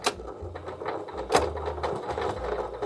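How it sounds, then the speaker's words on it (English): Close and fairly quiet, a sewing machine makes a few regular stitches across a folded fabric strap, a short burst of rhythmic mechanical clicking and whirring with no talking. "we're just going to do a couple of stitches across here"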